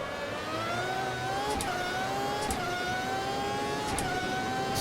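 Formula V12 race car in the Automobilista racing game at Imola, its engine screaming at high revs as a steady distant-sounding drone, with quick gearshift blips roughly every second or two and no talking.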